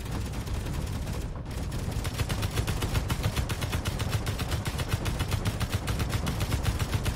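An AI-controlled turret fires steadily in the Space Engineers survival game, a rapid continuous machine-gun rattle lasting several seconds, loud and close with no talk over it.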